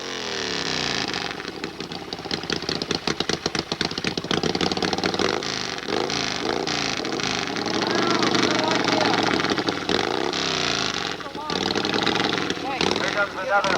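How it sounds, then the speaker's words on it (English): A Harley-Davidson motorcycle idles and revs at the start line of a 1988 AMA hillclimb in Monson, Massachusetts. Its engine sputters loudly and unevenly with repeated throttle blips, close and continuous throughout. "Here comes another Harley Davidson up to the line."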